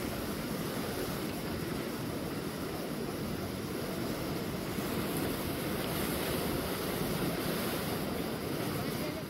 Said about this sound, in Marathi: नदीला त्यामुळे पूर आलाय